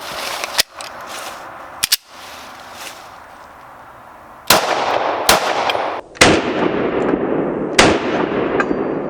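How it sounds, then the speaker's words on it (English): Sharp, loud pistol shots ring out from a SIG X10 at an outdoor range, six separate reports spaced unevenly, each a hard crack trailed by a brief echoing decay. "We're going to be shooting this in a SIG X10."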